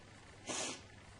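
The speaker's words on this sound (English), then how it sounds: "Sorry, sniffles." One quick, soft sniffle through the nose, faint and close, in an otherwise quiet room during a soap-making session.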